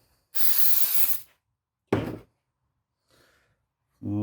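Cleaner sprayed from a can onto an Audi A4 B7 vacuum pump part during repair, heard as one long close hissing burst followed by a short second spray and faint handling sounds.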